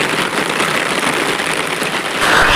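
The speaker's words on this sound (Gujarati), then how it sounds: "વરસાદ એટલો પૂરજોશમાં પડી રહ્યો છે કે જાણે આજે આ હવાળો વરસાદના પાણીથી ભરાઈ જશે" Heavy rain pours down in a steady, dense hiss that fills the space evenly and swells slightly near the end, with no voices.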